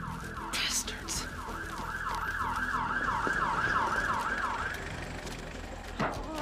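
An ambulance siren wails in a steady two-tone sweep, growing gradually louder as it approaches over several seconds before cutting off, with background street noise and a few brief bursts but no clear talking.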